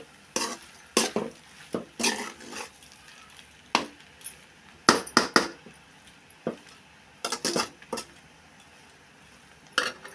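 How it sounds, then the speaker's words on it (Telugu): A utensil stirs egg pasta in a pan, making sharp metallic scrapes and clinks in irregular bursts. The sounds are close and fairly loud against a quiet background, with no speech. "ఒకసారి బాగా కలుపుకొని దింపుకుందామండి"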